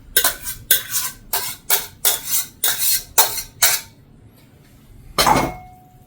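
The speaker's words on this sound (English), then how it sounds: "So I'm going to spread this over the base." A utensil scrapes and taps in a metal pan, spreading thickened fig filling over a bar base for date bars. Eight or so regular, loud scraping strokes come close up, then a pause, then one last scrape.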